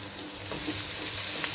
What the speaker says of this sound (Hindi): तो अब इस प्याज को मैं ब्राउन करूँगी, हल्का ब्राउन ज़्यादा नहीं